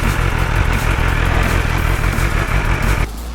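A BMW S1000RR sport motorcycle sits parked with its engine running, a loud, steady low rumble and mechanical clatter close by that cuts off abruptly near the end, leaving a quieter background.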